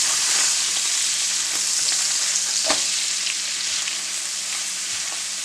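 Sausages brown in a hot pan, a steady loud sizzle and crackle of frying, close up with occasional pops and no voices.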